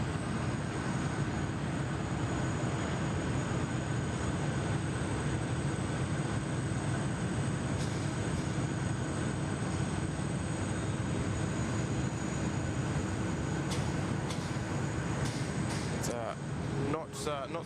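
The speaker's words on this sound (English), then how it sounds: "Qantas 641, runway 34 left, clear for takeoff." A Qantas airliner taking off from runway 34 left at Sydney Airport, a loud, sustained engine roar that holds steady throughout while a radio voice talks over it, with a few faint clicks near the end.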